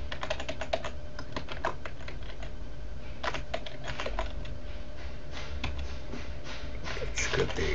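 Keyboard typing in a Linux terminal on Ubuntu, a steady run of close, crisp keystroke clicks in quick bursts with short pauses, over faint background hum.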